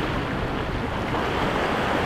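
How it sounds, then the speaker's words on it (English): Ocean waves surging steadily around a rocky fishing spot on the New Jersey coast in rough conditions, a loud continuous wash of surf and water with wind buffeting the microphone throughout, no voices. "look at these waves. Gotta be careful out here."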